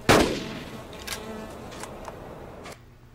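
Gunshots on a shooting range in the game Carnivores Dinosaur Hunter Reborn: one loud, sharp report followed by several fainter, spaced shots, each with a short decay, then a cut to near silence.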